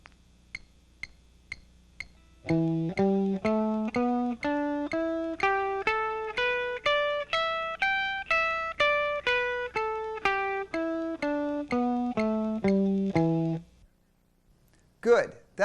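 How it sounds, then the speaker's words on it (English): After a few soft metronome clicks, a rock guitar scale runs up and back down at 120 bpm, brisk evenly spaced distorted notes played alone and close, stopping abruptly. "And with the metronome set at 120, it sounds like this"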